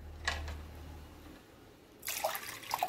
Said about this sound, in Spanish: para 2 porciones agregamos 2 tacitas o pocillos de agua